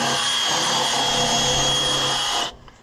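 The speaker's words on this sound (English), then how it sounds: "I'll go get the wire wheel real quick" A wire wheel spins against a rusted brake on an Oliver 1650 tractor, giving a loud, steady, high whirring grind that runs continuously for a couple of seconds and then abruptly cuts off.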